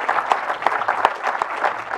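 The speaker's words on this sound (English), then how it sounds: "Round of applause" A lecture audience applauds after a talk on higher education, brisk close clapping with a few sharper individual claps standing out over the steady patter.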